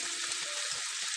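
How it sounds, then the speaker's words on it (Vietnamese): Pork cracklings being stir-fried in a sweet and sour sauce of sugar, fish sauce and chili sauce, giving a faint steady sizzle that ends with a brief clack. "Bây giờ mình sẽ xào trên bếp để cho cái nước sốt của mình đó nó bám vào trong cái chất mỡ và nó khô ráo hết ha"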